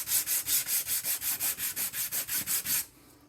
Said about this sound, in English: I'm going to smooth out these. This is 220. Yeah, 220 grit.